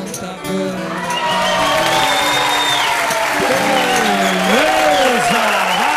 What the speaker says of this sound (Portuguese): Olha aí, quantos aplausos para Cido Garoto